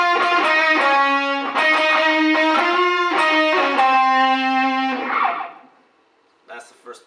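Electric guitar with distortion plays a solo in sustained, singing notes for about five seconds, loud and close, then fades out before a short burst of speech.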